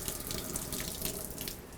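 Water runs steadily from the outlet of a GROHE Euphoria exposed shower system into a cup, an even, close hiss of flowing water without pause.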